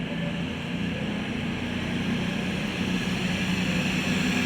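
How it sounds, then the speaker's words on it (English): An Avanti West Coast Class 221 diesel unit on the 13:05 Preston to London Euston service pulls out of Crewe station, giving a steady, loud rumble with constant broadband noise throughout. "also now departing is the 13:05 Avanti West Coast service from Preston to"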